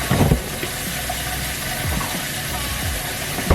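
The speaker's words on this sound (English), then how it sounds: "The water running." Water runs steadily from a kitchen tap during vegan cookie baking, a continuous broadband rush with a few clunks and knocks of dishes or utensils close by.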